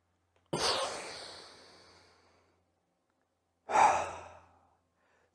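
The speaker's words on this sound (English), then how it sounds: "You can also do this technique standing up. Breathe in, breathe out." Two deep breaths in a yoga breathing exercise done standing, each a loud, close, airy exhale that fades out slowly, separated by about three seconds of silence.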